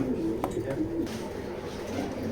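A red checker pigeon coos softly in a loft, a few short low murmuring calls in the first second before fading into quiet background room noise.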